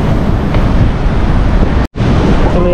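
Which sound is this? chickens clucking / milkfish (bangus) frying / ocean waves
ocean waves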